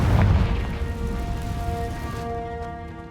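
A Confringo fire spell blast in Hogwarts Legacy lands as a heavy booming burst at the start, then tails off into a crackling, rumbling decay with lingering tonal game ambience.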